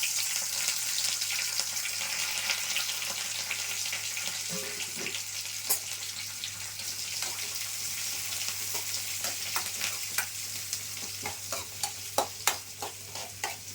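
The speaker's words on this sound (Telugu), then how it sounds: "ఉల్లిపాయలు, కరివేపాకు ఒకసారి వేసేసుకున్నాం." Onions and curry leaves fry in oil as a tempering for a carrot-beans stir-fry, a steady close sizzle with spatula scrapes and taps growing more frequent toward the end.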